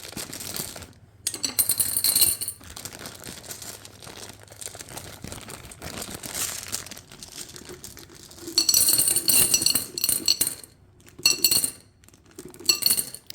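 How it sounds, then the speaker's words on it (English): Blue and green glass vase filler pours from a Ziploc bag into the bottom of a glass vase, a bright jangling cascade of clinking pieces in several bursts with plastic crinkling between pours. "I'm going to actually start off with this like blue and kind of green vase filler that I had in a Ziploc bag"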